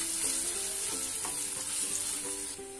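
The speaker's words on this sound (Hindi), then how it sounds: "हम इसमें प्याज ऐड करेंगे, अच्छे से मिक्स करके फ्राई करेंगे" Sliced onions fry in hot oil in a pan with lightly fried mutton kidney pieces for gurda masala, a dense continuous sizzle with soft intermittent stirring scrapes, close and unbroken.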